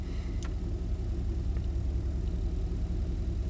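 A 1991 Chevy K1500 truck engine running at a low idle around 650 RPM while warming up, giving a steady, close-up low rumble with a couple of faint clicks on top.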